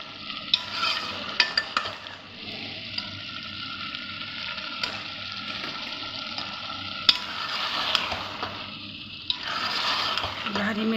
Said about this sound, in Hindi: हरी मिर्ची और आलू डाल के भुनाई